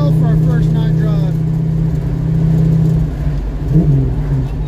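A Ford Mustang project car drives at night. A steady engine drone runs from start to finish with a rumbling road-noise bed and a slight rise in pitch near the end. Someone talks under the engine sound.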